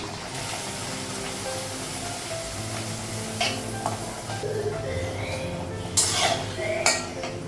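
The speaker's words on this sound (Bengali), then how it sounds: "এখন ছোটো ছোটো ভাজবো" Small luchi frying in hot oil give a steady, soft sizzle, broken by a few clinks of a utensil against the pan near the end.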